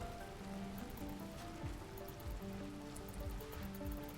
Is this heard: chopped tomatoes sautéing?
no